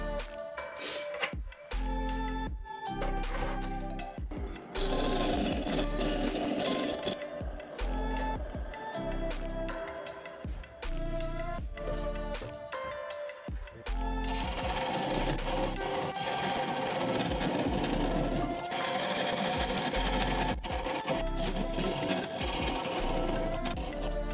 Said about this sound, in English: I think I'm going to try to cut this off with another point tool here.